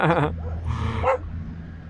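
A dog barks a couple of times amid voices, a yelp up front and another bark shortly after, fairly close over a low background rumble.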